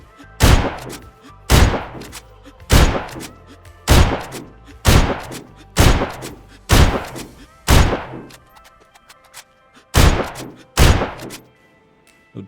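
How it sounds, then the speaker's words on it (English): Eleven heavy single shots from a T5000 rifle in .300 Win Mag fired in a video game, loud and evenly spaced about a second apart, with a short pause near the end. "So 12 rounds on that one with the T5000 300 Win Mag."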